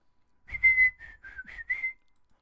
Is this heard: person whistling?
yes